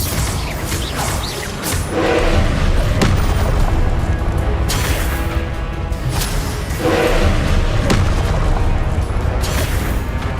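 Confringo blasting-spell explosions in Hogwarts Legacy erupt as loud, dense booms, several big blasts rolling into one another over a rumbling game soundscape with no voices.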